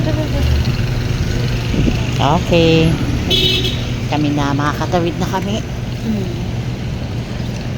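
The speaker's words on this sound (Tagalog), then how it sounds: "Oh, ang daming sasakyan." Busy road traffic with many cars passing, a steady engine and road roar with a short horn toot, under continuous talk from a nearby speaker.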